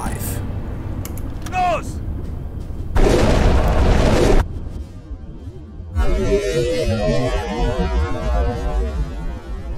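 In the submarine game UBoat, a torpedo launches from tube 5 with a deep, loud roaring burst lasting over a second, then a rumbling churn of water and machinery that continues, with a voice calling out briefly beforehand.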